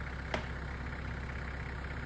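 A tractor engine idles with a steady, low, even rumble and a single faint click partway through the short stretch.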